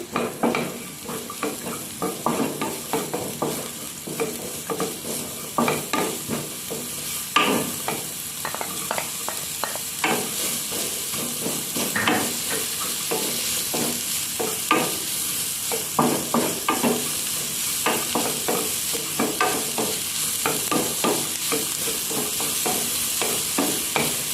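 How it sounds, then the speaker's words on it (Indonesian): Continuous sizzling of spices frying in hot oil in a wok, with a steady scraping of a spatula stirring against the pan, loud and close, no talking. "Ini untuk bumbunya saya tumis dulu."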